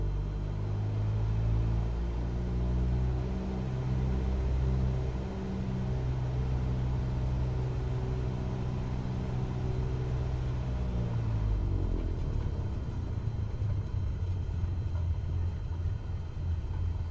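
Steady droning aircraft engine in Microsoft Flight Simulator, throttled up a little while the plane taxis back to parking at KCLS, holding a constant low hum with harmonic tones that roughen and shift near the end.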